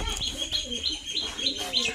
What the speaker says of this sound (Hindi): ये एक और कबूतर है, ये सिंगल कबूतर है